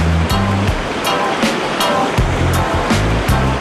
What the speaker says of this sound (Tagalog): Ang Pulang Bato Falls dito sa Dumaguete, may taas na 50 feet ang rumaragasan nitong tubig.